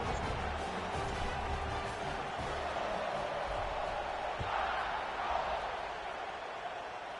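A stadium crowd in a college football video game sends up a dense, steady roar throughout, with a murmur of voices swelling slightly near the end.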